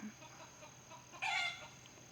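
Rooster in a garden with two hens, giving a brief burst of calling clucks near the end, mid-distance over faint outdoor ambience.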